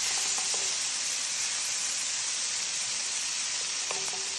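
Ginger and garlic sizzle in melted butter in a pan while being mixed, a loud, close, steady frying hiss with a few faint clinks of utensil on pan.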